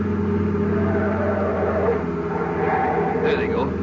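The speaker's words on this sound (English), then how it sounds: "Clay, car coming up that highway now." A car on a highway speeds closer at around ninety, its steady engine roar and road drone filling the scene while voices talk over it.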